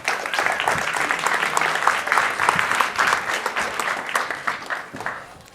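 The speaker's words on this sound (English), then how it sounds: "can we get a round of applause for our panelists?" Audience applause for panelists at a MozFest session, a steady dense patter of many hands clapping close by that holds for several seconds and tapers near the end.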